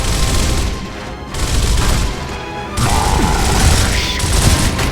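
Gunfire in the video game Gears of War: loud, sustained bursts of rapid shots and booming impacts, broken by two brief lulls.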